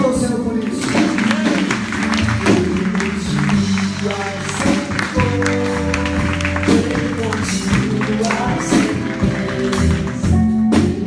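A church congregation claps along through a dense, steady stretch, the sharp hand strikes layered over loud worship music and voices that continue without a break.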